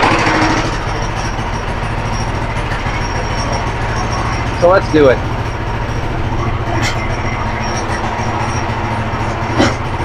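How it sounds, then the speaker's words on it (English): A warmed-up Predator small engine on a go-kart idles with a steady, rumbling drone throughout, a few clanks and brief noises on top, and a voice speaks briefly. "And I idled the engine for a few minutes and already warmed her up."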